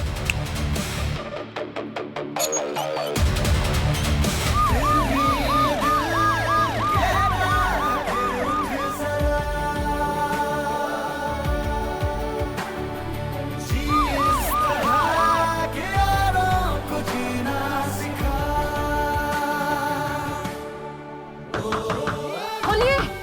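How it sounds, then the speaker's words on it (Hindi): A wailing ambulance siren rises and falls repeatedly over loud traffic and engine noise, staying close and dominant for the whole stretch. "देव, एम्बुलेंस लेकर जाओ, जल्दी पहुंचोगे।"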